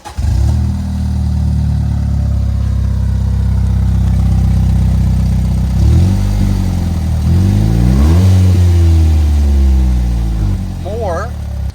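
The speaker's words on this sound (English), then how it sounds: "it went back to being a huge exhaust leak" A B7 Audi A4 Quattro automatic with a huge exhaust leak at the flex pipe, its engine droning loudly up close, then revving several times in rising and falling sweeps, with a rough, raspy note.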